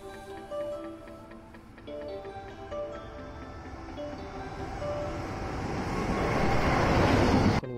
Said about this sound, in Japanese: 奥からやってきたのは EF210 型電気機関車です。